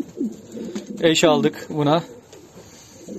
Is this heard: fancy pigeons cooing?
yes